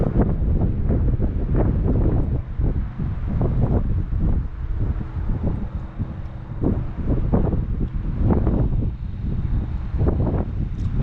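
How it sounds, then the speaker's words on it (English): Gusty wind buffets the microphone outdoors beside a lake on a clear day, a loud continuous rumble that swells and dips in uneven gusts with no voices. "the wind is blowing it away"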